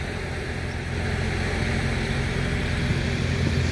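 A Valtra A950R tractor pulling a trailer on a farm, its engine a steady low rumble that holds level and slightly rises as it draws nearer, with no talking over it.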